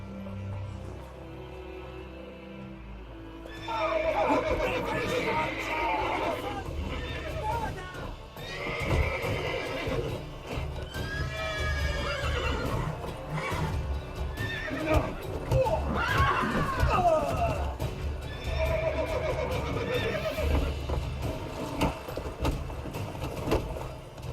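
A horse neighs and whinnies several times amid game sound effects, hoofbeats and shouting voices, with a busy, layered mix throughout, in The Witcher 3: Wild Hunt.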